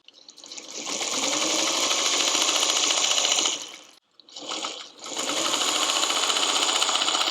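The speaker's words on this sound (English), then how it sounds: "Let's sew this." A sewing machine stitches seams on a batik quilt block in a steady, loud, close whir that stops briefly midway, runs in a short burst, then resumes running continuously.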